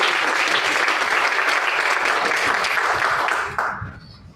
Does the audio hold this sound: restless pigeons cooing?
no